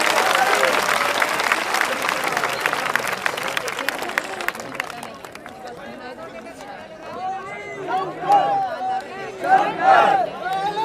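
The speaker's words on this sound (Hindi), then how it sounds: "उन सबके लिए जोरदार तालियां सभी लोग" A large crowd at a Hindi devotional gathering by a ghat claps loudly for some 500 volunteers, the applause dense at first, then thinning into scattered claps, cheers and chatter, with voices audible in the crowd.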